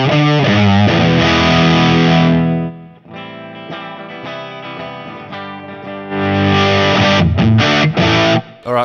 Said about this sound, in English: it's not just a drive, it's a distortion pedal as well